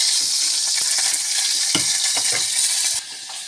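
Lamb fat renders in hot ghee in a pot over low heat, a loud continuous sizzle and crackle with a few stirring scrapes and clinks, dropping slightly quieter near the end.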